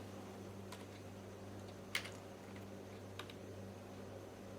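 Typing on a computer keyboard while writing VBA code, a few sparse, quiet key clicks over a low steady electrical hum.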